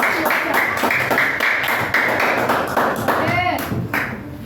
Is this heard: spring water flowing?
no